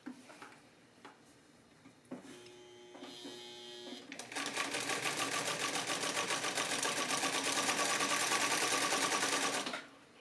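A Singer 319W sewing machine gives a few clicks and short starts, then settles into a loud, steady, fast whirring stitch for about six seconds before stopping abruptly.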